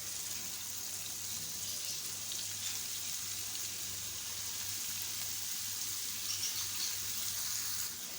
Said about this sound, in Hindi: तो ये लीजिए टिक्कियाँ हमारी बन चुकी हैं कबाब। अब हम इनको फ्राई कर लेते हैं।